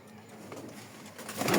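Racing pigeons coo softly in a female loft, with low murmuring calls rising and swelling toward the end of the brief moment.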